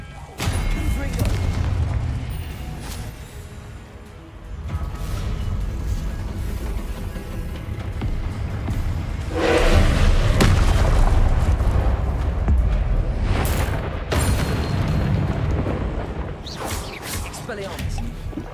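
Confringo fire-blast spells exploding in the game Hogwarts Legacy, repeated booming impacts and crashes through a hectic duel, with a voice shouting spell names over the blasts.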